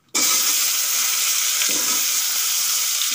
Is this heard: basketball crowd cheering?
no